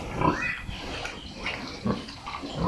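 Piglets on a pig farm grunt and squeal in short, close bursts, with a few sharper squeaks rising above a continuous noisy background.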